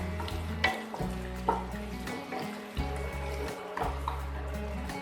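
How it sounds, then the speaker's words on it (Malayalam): Garlic sautés over a high flame in a pan for a prawn masala curry, crackling in bursts with repeated stirring scrapes and clanks close by, no talk over it. "ആ വെളുത്തുള്ളിയുടെ മണം മാറുന്നത് വരെ നമുക്കത് വാട്ടിയെടുക്കാം"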